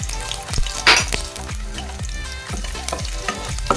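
Ginger sautéing in hot oil in a pan for chicken curry crackles loudly and steadily up close, while a spatula taps and scrapes the pan in a quick, regular rhythm.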